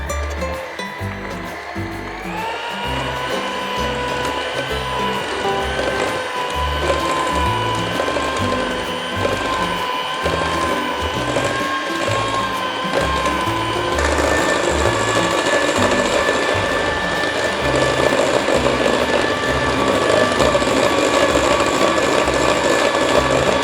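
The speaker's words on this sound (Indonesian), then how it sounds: "Kita kocok dengan kecepatan mixer kurang lebih selama 5 menit." An electric mixer beating coffee mocha layer cake batter with mocha paste, a loud continuous whirring hum with a rhythmic mechanical rattle that shifts to a higher pitch partway through, with no talk.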